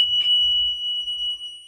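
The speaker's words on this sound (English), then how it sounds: "This time we're checking for the emergency exit alarm." A school bus emergency exit door alarm sounds as a continuous, piercing, high-pitched electronic tone, loud and close, with a brief low thump as it starts.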